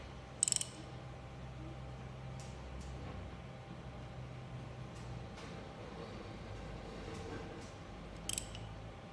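Ratchet wrench turning an engine over by hand to find top dead center, heard as faint intermittent clicks and a couple of sharp metallic ticks over quiet background hum, no talking.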